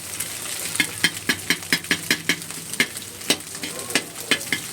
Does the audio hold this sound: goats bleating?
no